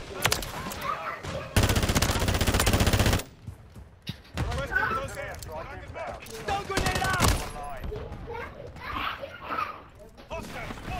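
Shotgun and automatic gunfire in a Call of Duty: Modern Warfare 3 multiplayer match, loud broadband blasts in bursts with a long sustained volley, mixed with game noise and voices talking throughout.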